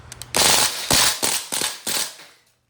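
A DPMS Panther Arms SBR airgun rifle on full auto: a couple of faint clicks, then several loud, close, rattling bursts of rapid mechanical shots with short gaps between, ending in quiet.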